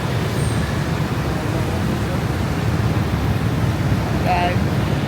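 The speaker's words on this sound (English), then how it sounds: "We're waiting for the bus and there's loads of traffic" Road traffic at a roadside bus stop in Vietnam, a continuous close wash of engine rumble and roadway noise with wind buffeting, a brief horn-like tone near the end.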